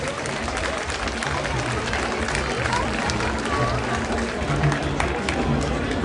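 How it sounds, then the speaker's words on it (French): A crowd at the Grand'Margot 2010 enthronement ceremony applauds in a dense, sustained patter of many hands, with murmuring voices mixed in underneath. "on les applaudit bien fort"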